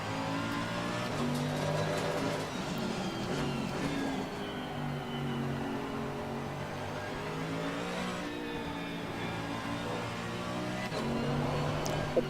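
A Mercedes race car engine in Assetto Corsa Competizione, driven at the Nürburgring, drones steadily at mid volume, its pitch rising and falling through revs and gear changes with no talking.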